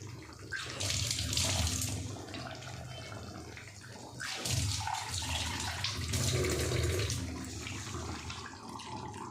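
Water pours into a pan of chicken curry, a steady splashing rush that runs the whole time with two brief dips in flow, close and fairly loud with no talk.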